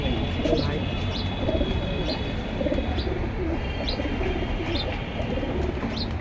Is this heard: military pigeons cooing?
yes